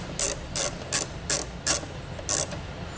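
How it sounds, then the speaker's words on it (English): A ratchet with a 7mm socket turns out a bolt behind the peeled-back fender liner of a 2018 GMC Acadia, giving six short, evenly spaced bursts of clicking close up. "remove several bolts using a 7mm socket"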